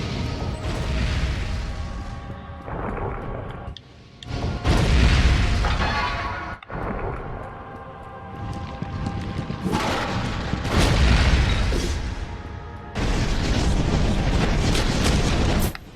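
Fireballs launched by a trap in the Dungeons & Dragons Heroes video game roar and boom in heavy repeated bursts, loud and continuous with short gaps between blasts.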